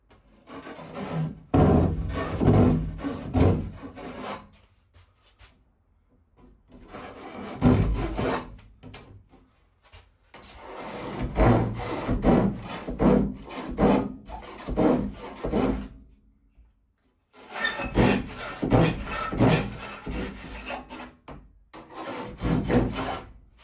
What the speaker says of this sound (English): I was just using a handsaw, and I'm going to pull it down on the cut